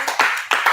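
Brief bursts of audience clapping at a youth summit on wealth creation, loud and close, in a couple of quick swells with no talk over them.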